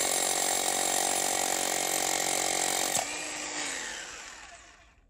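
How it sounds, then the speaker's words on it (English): Power drill boring holes for an ICF foundation, a loud close steady whine that cuts off abruptly and winds down to quiet. "Makes drilling the holes way easier."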